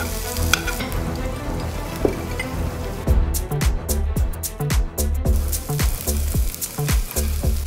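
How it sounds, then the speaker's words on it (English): Mushrooms and masalas sauté in ghee with a close, continuous sizzle, and from about halfway through a rapid series of sharp clacks and scrapes, spatula against pan, breaks over it. "So I'm sauteing some mushrooms here in ghee."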